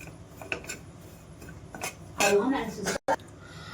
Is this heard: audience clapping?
no